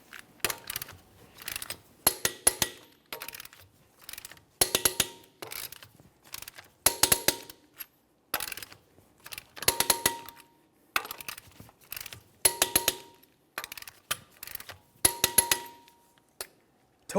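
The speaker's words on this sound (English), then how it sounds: "we'll torque these in a crisscross manner" A torque wrench tightening wheel lug nuts on a GMC Acadia, with repeated bursts of rapid ratchet clicks separated by short pauses and occasional sharp metallic clacks, close and alone.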